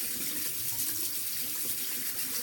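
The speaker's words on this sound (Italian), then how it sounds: "Po' d'acqua calda." Hot water runs steadily from a tap into a sink while shaving lather is being prepared, a continuous close splashing hiss with no voices.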